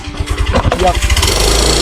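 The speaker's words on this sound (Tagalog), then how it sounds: "JC, may motor!" A loud motorcycle engine roars close by, its throbbing rumble building as it passes.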